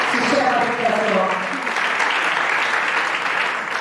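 An audience applauds in honour of the performer's mother at a Latina music panel, steady dense clapping throughout with a voice speaking over the start.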